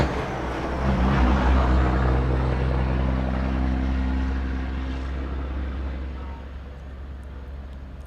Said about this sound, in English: I think that is a helicopter.